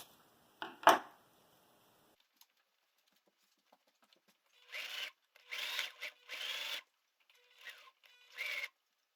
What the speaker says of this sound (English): I'm just going to go ahead and snip this piece off just so it's a little less bulky there.